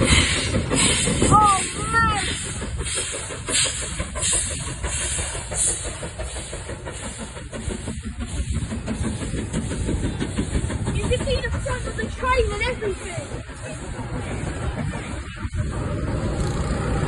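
The steam locomotive Duchess of Sutherland rumbles past along the seawall at Teignmouth on a windy day, with a steady hiss of steam and rhythmic chuffing, some clicks and clatter along the rails, fairly close throughout.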